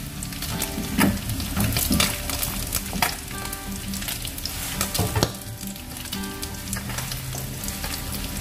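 Fish sizzles steadily in hot oil in a pan, a dense crackling hiss with occasional sharper pops and stirring clatter, close and continuous with no talking.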